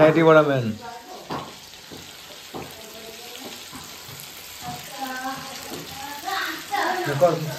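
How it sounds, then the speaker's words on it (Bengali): Marinated tandoori chicken sizzles and spits in a frying pan, a bright continuous crackle running under intermittent close conversation, with clinks of utensils between words. "আমি এসে ভাজাভাজি করছিলাম বসে বসে"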